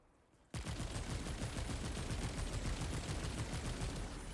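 Rapid, continuous automatic gunfire from a weapon in the video game Remnant 2 erupts after a brief quiet start, loud and sustained as a dense stream of shots with no talking.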